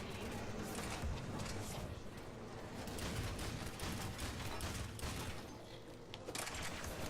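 Steady, continuous gunfire in Mass Effect 3 co-op multiplayer, with dense overlapping shots and combat noise held at a constant moderate level throughout.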